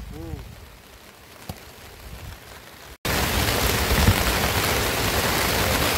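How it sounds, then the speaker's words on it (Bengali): Rain falling outdoors at a chili seedling nursery, a quiet patter that suddenly becomes a loud, dense, steady hiss halfway through and continues unbroken, with a voice briefly audible early on. "ঘুরে ঘুরে বৃষ্টি পড়তেছে, দেখতে পাচ্ছেন।"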